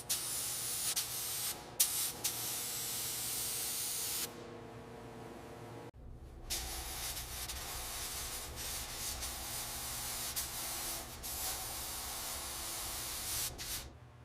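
A spray gun hisses varnish steadily onto the body of a life-size Thomas Flyer car, painted factory blue. The bursts are close, continuous and even, broken by a short pause near the middle.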